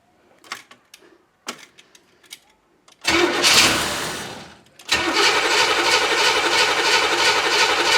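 A 1962 Corvette engine cranks with a few short starter bursts, then turns over in a long, loud grinding spell, pauses briefly, and keeps cranking steadily close by.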